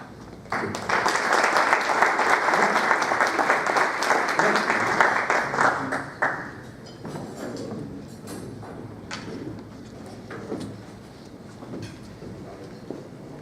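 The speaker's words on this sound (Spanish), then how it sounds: "recibimos con un fuerte aplauso" Loud audience applause at a public-private partnership business conference welcomes a guest speaker, dense clapping for about six seconds before tapering into scattered claps and room noise.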